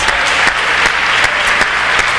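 Church congregation applauding during a sermon, continuous dense clapping with a few sharper claps standing out throughout the short burst.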